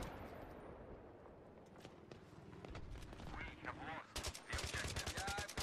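An engineer-class gun fires in a video game, a quick run of sharp shots ending in rapid bursts, all fairly quiet, while someone talks over the gunfire.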